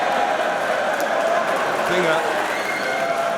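A wrestling crowd at a Defiant Wrestling show cheers and applauds in a steady, dense roar that fills the room throughout, with a commentator talking over it.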